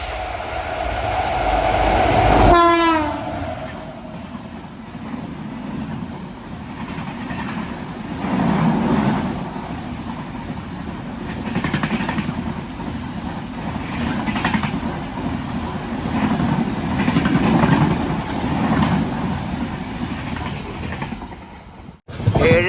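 Passenger train on the Konkan Railway rushing past at speed near a crossing, a loud horn blast at the start, then a long steady roar and clatter of coaches that drops suddenly at the end, no talking.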